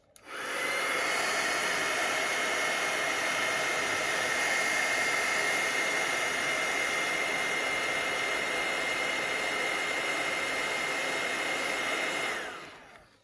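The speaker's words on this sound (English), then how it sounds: "We're going to come in once again with the heat tool." A heat tool blows hot air over stamped card stock during card making, giving a steady, whining whoosh that runs for about twelve seconds with no talk and then cuts off.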